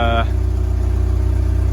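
A turbocharged Mazda Miata engine idles loudly with an exhaust leak, giving a steady, throbbing, low rumble with rapid regular pulses, close by, and a brief voice at the start.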